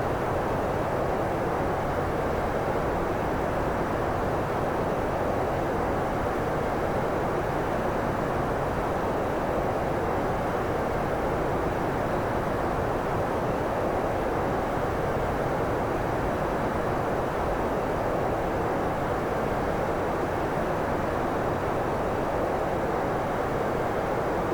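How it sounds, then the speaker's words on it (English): A Boeing 747 airliner descends in a flight simulator game, giving a constant, loud, even engine and cockpit drone that never changes for the whole stretch, with no talking. "And the plane initiates the descent."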